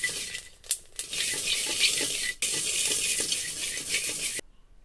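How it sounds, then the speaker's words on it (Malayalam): Kuruva rice roasting in a pot while being stirred: a continuous dry sizzling rustle, close and fairly loud, broken by brief scraping pauses before it stops abruptly. "നമുക്കിങ്ങനെ വറുത്തെടുക്കാം. ഇളക്കിക്കൊണ്ടിരിക്കണം."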